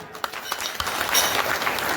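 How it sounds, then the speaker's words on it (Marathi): An audience claps at a Mahashivratri celebration and the 136th birth anniversary festival of Sant Ishwarsingh Bapuji, giving a short burst of dense, fairly loud applause with a few sharper individual claps over a steady crowd wash. "वजाव टाळी एकदा"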